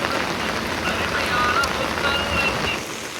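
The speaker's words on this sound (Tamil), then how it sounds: "பா இந்த மழை வருது பாரு" Heavy rain falls steadily around a TNSTC bus travelling through Ooty, a dense continuous hiss of drops on the roof and windows with no talk over it.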